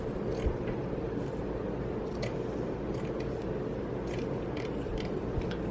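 Scissors snip through a row of a carnival bracelet, a steady close crunching cut with a few sharp clicks of the blades, heard alone without talk.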